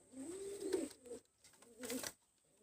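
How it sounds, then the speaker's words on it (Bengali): Kamagar pigeons, a male and a female, coo close by in two separate throaty bursts with a short quiet gap between them. "আমি আরও দুইটা কবুতর দেখাচ্ছি দেখেন"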